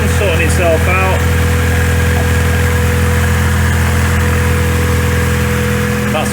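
Car engine idling after a fresh cam belt change, a steady low rumble with faint vibration running throughout, a couple of brief mechanical chirps near the start and end.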